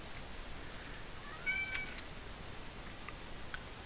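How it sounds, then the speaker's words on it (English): A cat meows once, fairly short and rising, somewhat in the background of a quiet room, followed by a faint second mew a couple of seconds later. "My cat is meowing."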